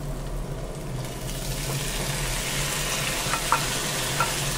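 Beef curry with sliced onions and green chilies sizzling in a pan, a continuous even hiss and crackle under a low background hum, with a few sharper pops near the end.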